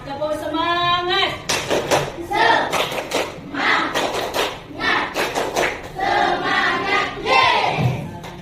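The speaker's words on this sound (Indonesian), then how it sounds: "Tepuk semangat." Schoolchildren in a classroom perform a rhythmic spirit clap, bursts of sharp hand claps in patterned groups alternating with chanted group voices, close and lively.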